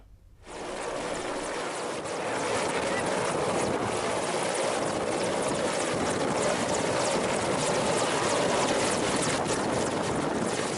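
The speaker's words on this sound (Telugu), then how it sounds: "కేరళలో రాష్ట్రపతి ద్రౌపది ముర్ము ప్రయాణిస్తున్న హెలికాప్టర్ ల్యాండ్ అవుతుండగా సమస్య తలెత్తింది." A helicopter carrying India's President lands at a helipad in Kerala, its loud, steady rotor and engine roar building at the start and then holding constant throughout.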